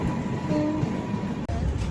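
A passenger train, the CSMT–Amritsar Amritsar Express, rolls past on the rail line with a steady, loud rumble and rattle of wagons, a brief dip near the end, and no talk.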